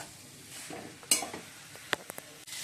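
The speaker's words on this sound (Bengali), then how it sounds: "এই মধ্যে মশলাটা কষিয়ে আলু আর মাশরুম দিয়ে দিয়েছি।" Potatoes and mushrooms frying with spices in a pan, a soft continuous sizzle broken by a couple of stirring scrapes and light clinks of a utensil against the pan, close by and fairly quiet with no talking.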